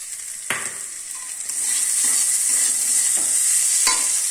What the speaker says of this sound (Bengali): এবার আমি চাউমিনটা অ্যাড করে দেব।